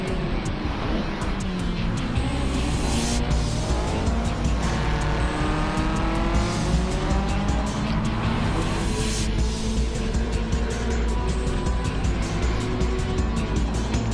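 A race car in a Challenge Series event sliding sideways through the last turn, loud continuous engine roar with tire squeal and sliding noise held steadily throughout.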